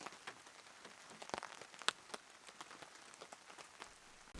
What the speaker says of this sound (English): now it's proper rain